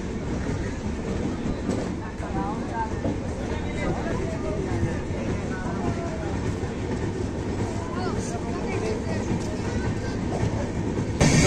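Sharbat Da Bhala Express passenger train running on rails near Rohtak, a steady continuous rumble with faint rhythmic clatter throughout, heard from inside the carriage among passengers.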